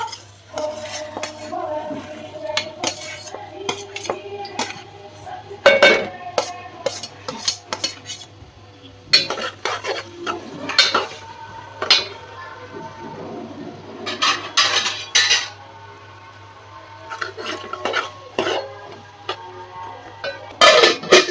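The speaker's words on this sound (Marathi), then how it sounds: "पहिला कांदा टाकूया" Onion tipped into a pan of oil not yet fully hot and stirred while cooking a Koli-style minced fish dish, with repeated close metallic scraping and clinking of a spoon against the pan over a low steady hum.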